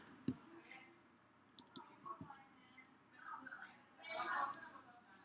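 A computer mouse gives a few small, sharp clicks, close and faint, scattered between stretches of a woman's soft speech.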